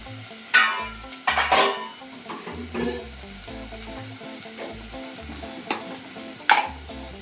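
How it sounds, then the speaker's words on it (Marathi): Spice masala fries in hot oil for a Maharashtrian prawn curry and is stirred, making a close crackling sizzle with several louder bursts of scraping and spattering and no voices. "मसाला चांगला तेलात परतून घ्यायचा।"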